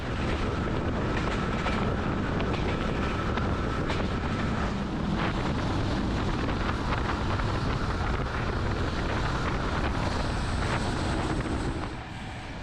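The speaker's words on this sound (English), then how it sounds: "we can enjoy the winding motion of the long train making its way north" A long passenger train runs on a Balkan railway north through the Iskar Gorge in Bulgaria, giving a continuous loud rumble mixed with wind buffeting the microphone and brief rattles, steady throughout with no voices.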